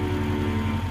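A tractor engine in a cartoon runs rough, a loud, close, steady low rumble with a buzzing mechanical hum throughout, no voices.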